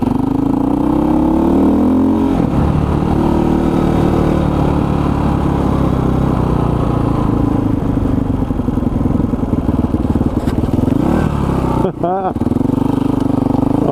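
Supermoto motorcycle on supermoto wheels and tires riding a soft dirt road, a loud engine droning steadily with rising and falling revs, brief gear shifts, a sharp rev near the end and heavy wind noise.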